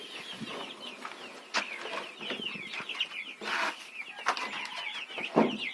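Small guinea fowl keets and ducklings in a coop give constant high peeping chirps, many overlapping calls close by, with occasional soft shuffling and scratching.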